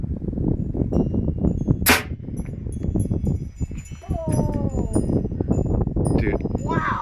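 An American Air Cannons air cannon fires a projectile outdoors with one sharp, loud blast and hiss near the two-second mark, set among wind noise and background voices.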